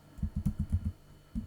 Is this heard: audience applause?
no